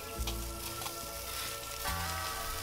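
Meat sizzling on a hot griddle pan, a soft, continuous crackle and spatter with a few small pops, heard close up but quietly, with no talking.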